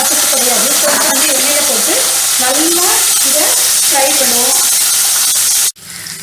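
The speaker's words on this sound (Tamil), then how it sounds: "ஸோ எண்ணெயில் போட்டு நல்லா இதை ஃப்ரை பண்ணுவோம்." Bitter gourd pieces fry in hot oil in a pan for a Tirunelveli-style theeyal, a loud, close, continuous sizzle with stirring that cuts off abruptly near the end.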